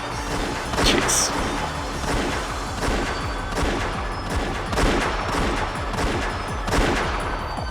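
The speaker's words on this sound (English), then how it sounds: "As soon as I heard the sound of repeated gunfire" Sustained bursts of rapid video game gunfire crackle and pop continuously, loud and close, with overlapping shots and occasional heavier impacts.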